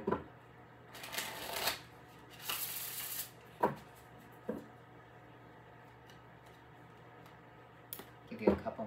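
Tarot cards are shuffled in several quick riffling bursts, separated by soft taps and pauses, close and fairly quiet.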